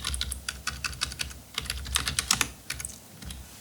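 Close, crisp keystrokes on a computer keyboard in fast irregular runs with small gaps, a clear typing patter and no speech.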